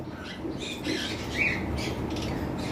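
Violet mask lovebird in a breeding box giving a few short, sharp squawks over quiet background noise, fairly close.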